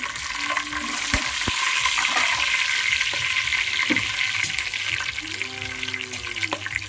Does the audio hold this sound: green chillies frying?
yes